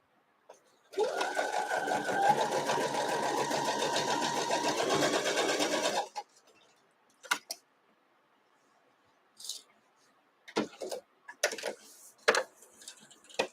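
A Brother CP60X sewing machine stitches in one steady, loud run of about five seconds, followed by quiet and a few short clicks and handling noises.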